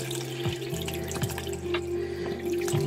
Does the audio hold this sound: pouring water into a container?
yes